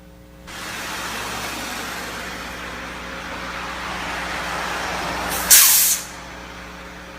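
A school bus pulls to a stop on a city street, its engine rumbling under road noise until a sharp, loud burst of air-brake hiss near the end, then a steady idle.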